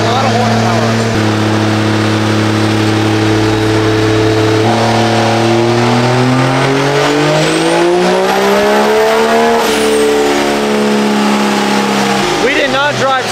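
A powerful truck at a truck meet revs hard, its loud engine note climbing steadily in pitch, easing, then climbing again, with a brief tire squeal and voices in the background.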